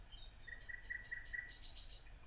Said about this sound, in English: a short walk in the morning also produced these beautiful vocal common nightingales, which are real amazing songsters